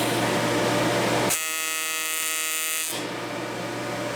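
TIG welding arc reheating a tacked metal part, a steady high-pitched electric buzz with a strong hum, switching to a cleaner tonal drone for a moment in the middle before returning, close and continuous with no talking.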